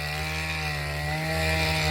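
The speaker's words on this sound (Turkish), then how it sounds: "Ya şurada da inşaat yapıyorlar hepsi." Nearby construction work gives off a steady mechanical drone with a strong low hum and whining tonal layers, constant and fairly loud throughout.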